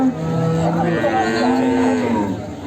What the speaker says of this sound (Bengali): এই যে বিগ সাইজের একটা গরু